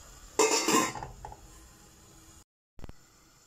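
A brief metallic clatter as a lid is set onto a cooking pot, close by, followed by quiet room tone.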